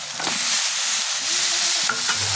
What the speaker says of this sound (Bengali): এভাবে ভালোভাবে নাড়াচাড়া করে পুরকল, আলু এগুলো দিয়ে মাছ দিয়ে মেশানো হয়ে যাওয়ার পরে একদম জালি জালি ঢেকে দিব